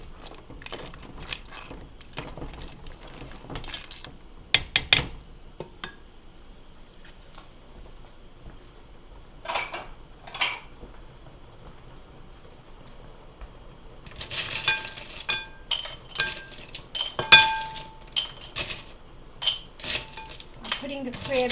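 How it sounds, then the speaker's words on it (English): Cooked crabs and their juice are shifted into another bowl, bringing scattered clinks and clatters of dishes and utensils, sparse at first, then a busier burst of knocks and scrapes toward the end. "Putting the crabs in another bowl because I want to use that juice that's in the bottom of the bowl"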